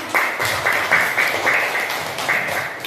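A class of children claps for group 1 after its presentation in a religious studies lesson, a busy close patter of many hands with a loose rhythmic pulse, steady from start to finish, no voices on top.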